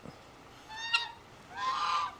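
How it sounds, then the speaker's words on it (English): Geese on a ranch honk in a couple of drawn-out nasal calls, moderately near over a quiet outdoor background, one short blast followed by a longer wavering honk. "Here come the geese to eat it."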